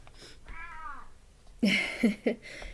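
A Bengal cat gives a drawn-out meow, then a few sharp, louder chirping meows in quick succession, close by.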